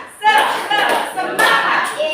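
Rhythmic group hand clapping in a classroom cheer for encouragement, a few sharp bursts of claps mixed with children's voices calling out together, close and loud.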